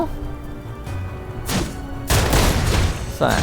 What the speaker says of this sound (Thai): โดนระเบิดเฉย ๆ